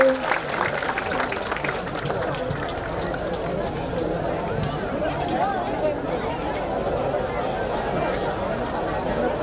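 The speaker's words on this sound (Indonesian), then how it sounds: "Tepuk tangan untuk Tuban" A large crowd at a live religious gathering in Tuban applauds steadily, with loud, continuous clapping blended with crowd chatter and murmuring voices throughout.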